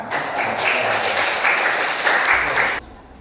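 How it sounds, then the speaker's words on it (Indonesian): Students in a classroom clap together in a brief, steady burst that stops abruptly near the end, leaving quiet room tone. "Ya, tepuk tangan."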